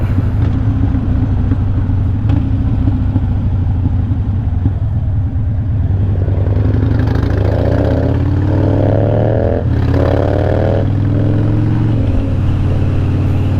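A motorcycle riding alongside and passing, its loud, gritty engine rising and shifting in pitch over a steady, close rumble of road and wind noise.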